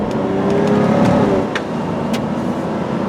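A maroon 1996 Chrysler Sebring JXi convertible with a 2.5-liter V6 pulls away, its engine note rising steadily and close, with wind and road roar filling in behind as it gathers speed.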